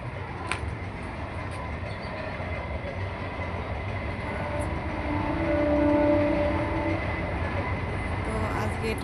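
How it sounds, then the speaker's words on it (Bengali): A train passing nearby, its rumble swelling toward the middle and fading, with a faint squeal of wheels and a voice speaking briefly over it. "ট্রেন যাচ্ছে"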